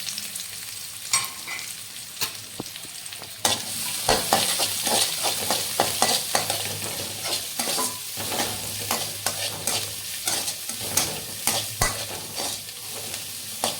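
Large onions sizzle and crackle in a hot pan while a utensil repeatedly scrapes and stirs them, the frying growing louder partway through.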